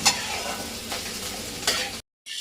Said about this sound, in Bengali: এবার শুকনো লঙ্কাগুলো দিয়ে দিচ্ছি।